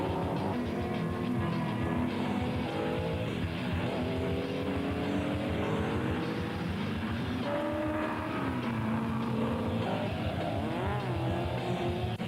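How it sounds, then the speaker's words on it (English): A heavily modified 700 hp Ford race car at speed on a tarmac rally stage in New Zealand, giving a loud, continuous engine roar whose pitch rises and falls through gear changes, with no voices. "700 horsepower of heavily modified blue oval under the bonnet, and the tyres are bleeding rubber all over the track"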